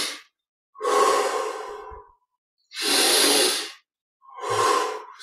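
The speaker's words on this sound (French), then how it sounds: "20 respirations profondes." Slow, deep breaths during guided meditation, three long airy exhales alone in silence, each swelling and fading over about a second, with brief pauses between.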